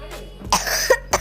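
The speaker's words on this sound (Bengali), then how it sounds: "যা কাশি হয়েছে না" Two short, sharp coughs come from a nearby person at a fish market, the second following quickly after the first.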